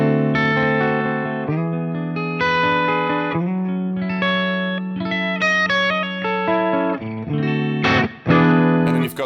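An electric guitar runs through a ToneX One amp-modeling pedal set to a clean tone, playing a melodic phrase of sustained, ringing notes with a chorused, effected sheen, steady in volume and heard on its own.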